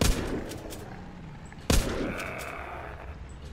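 Two sharp, loud grenade blasts in the video game The Walking Zombie 2, a couple of seconds apart, each followed by a rumbling decay, with scattered crackling debris noise in between.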